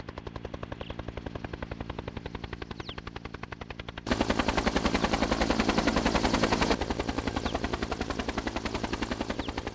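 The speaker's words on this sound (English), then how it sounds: "The best way to get there is by helicopter." A helicopter's rotor chops in a fast, steady rhythm close by in the Alps, growing louder and harsher midway before easing back slightly.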